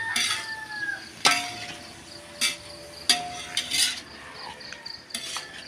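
Food stirred in a pot, with irregular metallic scrapes and sharp clinks of a utensil against the sides repeating every second or so, close by over a faint background hum and no talking.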